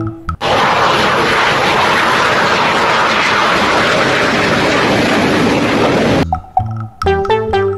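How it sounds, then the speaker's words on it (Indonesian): A toy airplane plays a loud, steady jet-engine roar for about six seconds, then cuts off into a short electronic musical jingle. "lihat teman-teman, di sini ada pesawat terbang."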